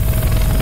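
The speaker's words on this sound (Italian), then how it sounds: "There's a chopper." Helicopter flying overhead in the Left 4 Dead 2 video game, a steady low rotor rumble that fills the whole brief moment at fairly loud, even level.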